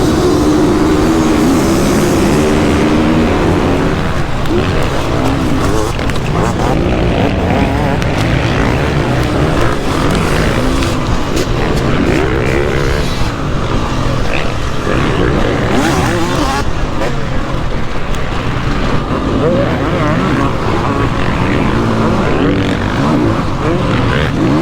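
Motocross motorcycles roar together at the start of a second heat at a race in France, a loud continuous engine drone filling the whole stretch with revving surges and no talk.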